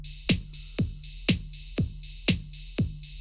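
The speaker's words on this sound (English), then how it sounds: "That is a pretty classic EDM drum beat." Classic EDM drum beat with a deep kick thumping four to the floor and hi-hats hissing on the off beats, a steady loop at moderate level with nothing else over it.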